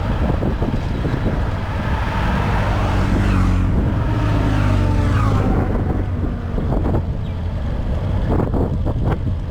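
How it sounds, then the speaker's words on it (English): Big BMW GS adventure touring motorcycles pass on a winding hill-climb road, a loud broadband engine and wind roar swelling and fading across the scene, with heavy wind buffeting on the microphone. "Some nice BMW GS big touring bikes."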